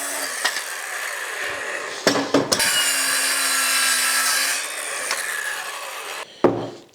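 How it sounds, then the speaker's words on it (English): A circular saw or jigsaw cuts along a marked line on a wooden board for a backyard golf game, a loud sustained whine that drops in pitch under load, broken by brief stops and restarts. "Now you take your circular saw or jigsaw and just cut off that line"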